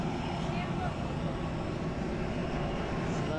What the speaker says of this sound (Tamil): இந்த ஃப்ளைட் தான் நம்ம வந்த ஃப்ளைட்டு.